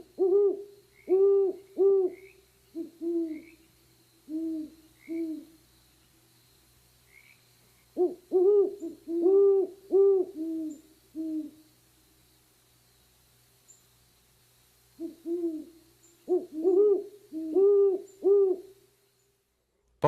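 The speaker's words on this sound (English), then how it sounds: "Classic hoot owl is the great horned owl. Listen to this deep vocalization." Deep, rhythmic great horned owl hooting in three separated bursts of several hoots each, fairly close and clear over a quiet background.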